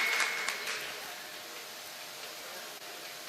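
Audience at a 2016 mushaira poetry gathering in Nawabganj, Bareilly applauds for the poet Khalid Sultanpuri, a steady, faint hiss of many hands clapping at a distance that tapers off over a few seconds.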